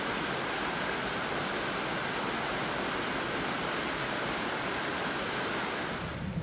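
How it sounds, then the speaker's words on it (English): A waterfall on the River Usk at Llangynidr in Wales roars as a steady, broad rush of falling water, continuous and fairly distant with no voices. "There's a waterfall just around the corner."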